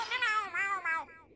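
Cartoon cats meowing in a Spanish-dubbed SpongeBob episode: three loud, close, wavering meows in a steady rhythm, the last one trailing off.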